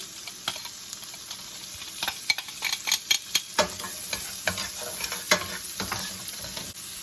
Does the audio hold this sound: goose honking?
no